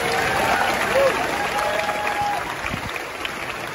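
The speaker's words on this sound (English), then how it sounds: "Yes, give them that round of applause" Crowd at a theme park anniversary celebration applauds steadily, a dense wash of clapping that holds loud and then fades slightly toward the end, with faint voices mixed in.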